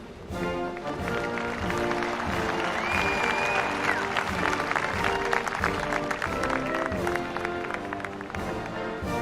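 A debate audience breaks into applause during the final GOP presidential debate, a dense, sustained patter of many hands that holds steady at moderate distance with little talk over it.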